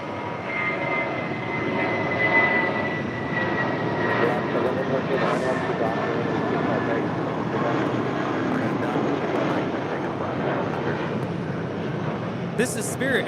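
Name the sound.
United Airlines Boeing 737 MAX 9 arriving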